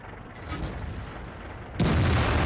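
Tank cannon in a World of Tanks battle fires a single loud booming shot near the end, after a rumbling buildup of engine and battlefield noise.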